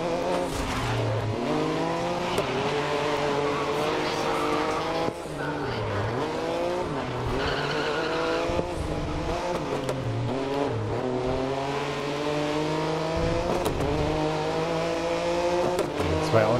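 Prototype race cars in the racing video game GRID scream through a Super Sprint race, engines revving and rising in pitch with repeated tire squeals and skids, loud and continuous, with faint voices talking underneath.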